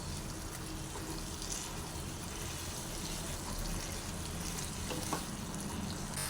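Chicken roast masala gravy simmering and reducing in a pan, a steady broadband bubbling sizzle that holds evenly throughout, fairly close, with no voices.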